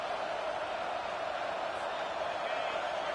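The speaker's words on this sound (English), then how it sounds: "Decibels rising as the crowd gets behind this defense on 3rd down." Football stadium crowd at an Ohio State game roaring steadily behind the defense on third down, a dense sustained wash of noise that stays loud and even throughout.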